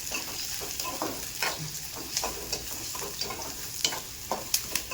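Onion and cauliflower sautéing in oil in a pan, a faint steady sizzle with light scraping stirs recurring every half second or so, no voices.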